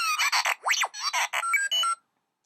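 A rapid string of electronic beeps, chirps and sliding whistles from the Star Wars droid R2-D2, bright and close, chattering in quick bursts before stopping.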